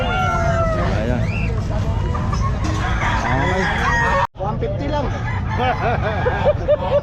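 Chickens and roosters at a pet and fowl market, a crowing rooster and steady clucking from many birds close by, with people talking and haggling among the crowd.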